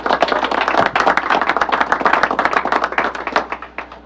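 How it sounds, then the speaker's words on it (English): Close, loud rapid clapping from an audience honoring a retiring hockey player, individual claps distinct and crisp in a quick irregular patter that thins slightly toward the end. "Let's give him a round of applause."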